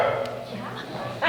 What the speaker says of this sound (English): joined by a stray dog who also happened to wander in